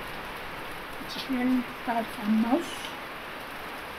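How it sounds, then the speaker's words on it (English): Rain falls in Uyo, Akwa Ibom, in the Niger Delta region, a steady soft patter under a voice speaking over it. "It has started raining, as you can hear, as you can see."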